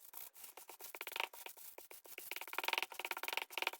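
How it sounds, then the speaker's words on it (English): Shiny packaging paper crumpled by hand for a craft card, a close series of crisp crackling rustles coming in quick irregular bursts, quiet and alone with no talk. "I'm going to crumple this up one more time."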